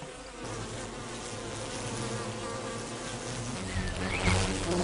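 Honeybees buzz at their hive in a steady, dense drone that holds throughout, with many wings humming together and a slight swell near the end.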